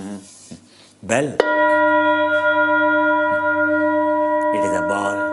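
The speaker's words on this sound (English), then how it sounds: "Bell." A bell of the kind used by lamas is struck once, ringing out with a bright, sustained metallic tone that hangs for about three seconds before fading. A voice speaks briefly before the strike and again as the ring dies.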